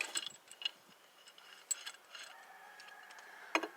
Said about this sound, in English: Just want to take the C-clamp and put it on the caliper.